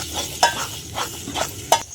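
Pea paste with ginger and green chilli paste is sautéed in a pan. A low sizzle runs under three or four clinking scrapes from a spoon stirring against the pan.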